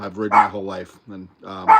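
A dog barks in response to a knock on wood, a few short yips and barks mixed in with someone talking nearby.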